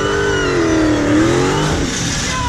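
A modified Dodge Hellcat revs hard during a burnout, its engine roaring loud and close in a continuous sweeping drone with pitch rising and falling.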